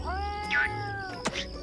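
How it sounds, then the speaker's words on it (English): A cat meows in the video game Super Slime Simulator, two distinct meows, the first drawn out and the second short, clear over a faint humming game background. "That was a cat."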